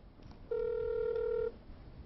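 A telephone call to a used car dealer rings out as a single steady ringback tone lasting about a second, clear over a faint quiet line, with no one talking.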